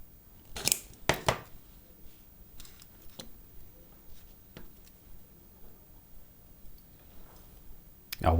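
Component leads on an Arduino VFD shield are snipped with cutters: a quick cluster of sharp clicks near the start, then a few isolated faint snips spread out over quiet background.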